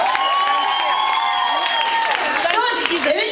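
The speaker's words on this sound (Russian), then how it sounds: "Ну а аплодисменты им!" A crowd applauds and cheers for a dance troupe at a stage performance, dense clapping with bright whoops and shouts rising above it, loud and continuous.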